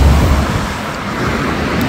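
Steady roar of road traffic on a main road in a city, loud and continuous with rumbling low-end wash from passing cars and no voices.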